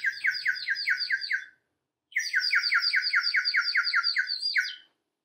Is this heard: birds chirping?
yes